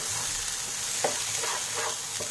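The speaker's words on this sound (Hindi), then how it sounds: "चार पाँच मिनट अच्छे से स्टफिंग को तैयार करना है लगातार चलाते रहेंगे" Spiced pea stuffing for kachori is stirred in a hot pan, a continuous close sizzle broken by several scraping strokes of a spoon, with no talking.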